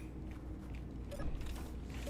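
Welding tool in the Space Engineers video game, a continuous mechanical grinding and creaking drone with faint ratcheting texture, fairly loud and steady throughout with no talk.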